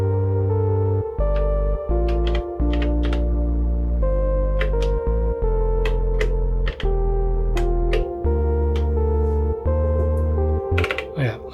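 An Elektron synthesizer sequence plays steady bass notes and plucky higher tones, with delay repeats at a changed delay time trailing each note in a continuous rhythmic pattern.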